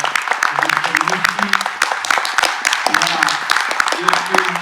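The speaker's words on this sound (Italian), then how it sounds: "Un applauso anche a Sayaka." Applause from an audience at an MSX developers' conference in Italy, a dense continuous patter of many hands clapping throughout, with a voice or two faintly audible underneath.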